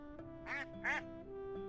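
Duck quacks from the Teddy's Haven video game: two loud, bright quacks in close succession, clear and close, set against a soft steady game-music backdrop.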